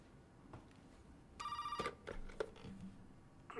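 A telephone rings in the horror video game Resident Evil 7, a short burst of bright electronic tones that stops and is followed by scattered thuds and clicks from the game under a low background rumble.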